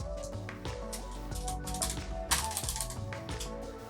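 Quick clicky typing on a computer keyboard, a close, steady patter of keystrokes over about four seconds with no voices.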